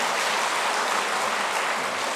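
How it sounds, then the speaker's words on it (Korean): Steady, dense applause from a church audience in Korea, a continuous wash of many hands clapping at even loudness throughout, with no voices over it. "다시 한번 큰 박수 부탁드립니다."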